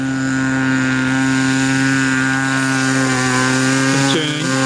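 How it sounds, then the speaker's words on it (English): A nitro-powered model foam plane engine runs continuously with a loud, steady buzzing drone and strong harmonics, its pitch dipping and wavering briefly near the end as the throttle changes. "Okay, we've got the plane going."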